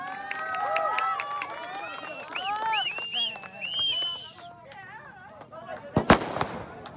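Fireworks go off at a T20 cricket tournament final, a sharp cluster of loud bangs near the end after a stretch of announcer talk and crowd noise.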